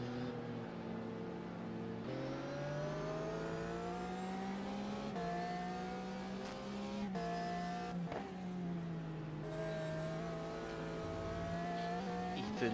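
On-board engine of a GT race car in a 2004 race at Valencia, howling steadily at high revs with several gear changes and brief dips while lapping through traffic, loud and close, with no talk.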